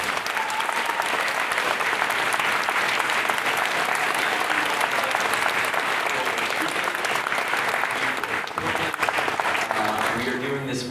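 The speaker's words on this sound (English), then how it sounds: "please give all of them a round of applause" A large audience at a Star Wars panel at New York Comic Con 2022 applauds loudly and continuously, dense clapping with crowd noise and a few voices mixed in, easing slightly near the end.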